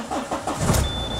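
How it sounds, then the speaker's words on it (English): Ford car engine cranking and catching, a short burst of rhythmic starter chugs that swells into a louder engine surge at close range. "Apparently we have to start the engine because otherwise it won't let me see anything."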